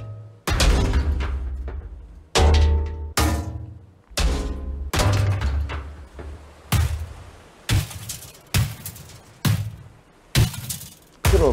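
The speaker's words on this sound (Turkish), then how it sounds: "Sadece çekiçle kırıyorum arkadaşlar." Ship parts being broken with a hammer in Ship Graveyard Simulator: about a dozen heavy thunking, shattering impacts, some spaced apart and others in quick succession, loud and close with no voices.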